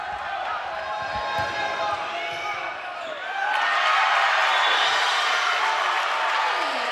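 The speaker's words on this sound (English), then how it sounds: "The crowd's getting back into it." A gym crowd at a college women's volleyball whiteout match cheers. The noise is moderate at first with a few ball thuds, then swells into louder, sustained cheering and applause partway through.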